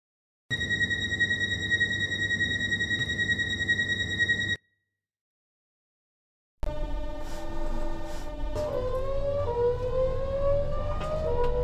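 A Stepford Connect train in the Roblox SCR railway game gives off a steady synthesized drone with a bright sustained tone, then cuts out and resumes as a rising electric motor whine with layered harmonic tones as it accelerates.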